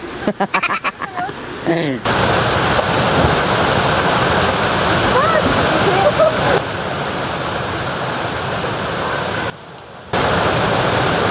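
Rushing water of the Mampurog River flows as a loud, steady broadband roar, briefly cut out twice, with a voice speaking over the start.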